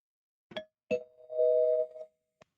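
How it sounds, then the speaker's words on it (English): A doorbell chime rings out as a clear two-tone ding-dong, the second tone sustained, with a short click before and another soft tap at the end, alone with no talk. "Here comes the bell."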